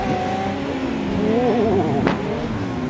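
In a racing video game, a car engine holds a high, warbling tone as it bounces off the rev limiter, loud and close, with a short sharp burst near the end.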